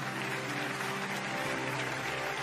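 A church congregation claps and cheers in a steady, dense wash of applause filling the whole moment with no pauses.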